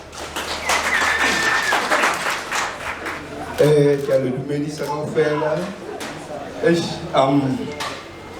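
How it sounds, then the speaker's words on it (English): Crowd applause at a festive games launch and draw event, brief clapping near the start fading into someone speaking over a microphone for most of the clip. "Let's give him a round of applause."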